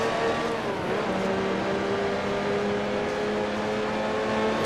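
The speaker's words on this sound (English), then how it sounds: "One of my teammates here behind a GT40 streaking away in the Golf colors." Grand Prix Legends racing game with a Ford GT40 sports racer streaking away, its engine a steady high-pitched drone with shifting tonal harmonics, loud and continuous throughout, no voices.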